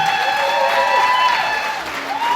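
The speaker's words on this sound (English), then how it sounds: "Give him a clap for that." An audience claps together in sustained applause to honour a man who helped with hurricane relief, a steady wash of many hands at an awards-style event, fairly loud, with a little crowd noise mixed in.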